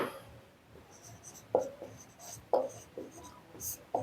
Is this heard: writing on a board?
yes